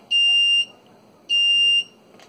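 An ESP8266-based water leak detector alarm sounds two shrill, piercing electronic beeps, each about half a second long and spaced roughly a second apart, loud and close in a quiet room.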